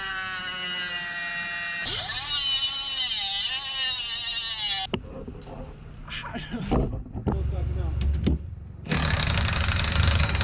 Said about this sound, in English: So now we have to cut this bolt off with the nut in order to get that off